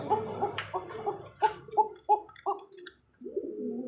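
Pigeons at a pigeon sale coo nearby in a quick series of soft, rolling calls, several short coos in a row followed by a longer, lower one, with background chatter faint or absent.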